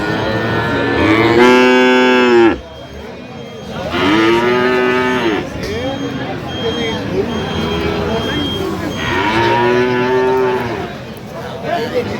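A five-month-old Friesian bull calf moos loudly three times, long drawn-out calls close by, with faint background noise and talk between the calls at a cattle market.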